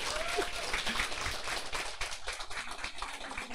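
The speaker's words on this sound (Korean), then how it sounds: "우리 박수 부탁드리겠습니다." Audience applause at a lecture, a fairly faint, sustained patter of many hands clapping that thins slightly toward the end.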